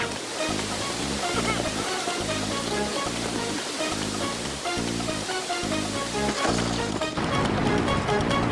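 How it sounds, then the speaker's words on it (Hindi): A cartoon waterfall rushes with a dense, steady roar of falling water. It lasts for the whole stretch over a pulsing low rhythmic beat and grows brighter near the end. "झरने का पानी आ गया।"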